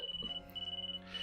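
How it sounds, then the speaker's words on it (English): A digital thermometer beeping in the game Karakara, a rapid series of short, high electronic beeps in quick bursts, fairly faint and alone. "Soon it beeps, and Lucia takes a look."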